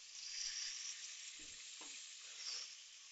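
Tomatoes and fresh mint sautéing in a pan for potato biryani, a steady close hiss with a few soft stirring scrapes, no voices.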